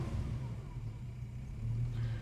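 A car engine runs soon after a cold start with a faint, steady low rumble. No ticking comes through.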